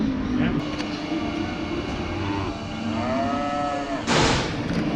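Cattle low at the Blackall sale yards amid constant outdoor background noise, with a drawn-out moo in the middle and a brief louder burst near the end.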